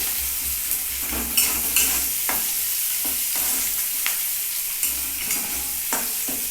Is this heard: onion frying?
yes